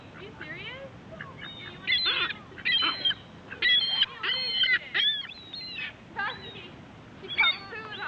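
Goose-like waterfowl honk repeatedly in bursts while bread is thrown to them, and people talk nearby underneath the calls.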